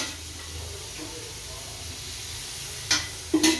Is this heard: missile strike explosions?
no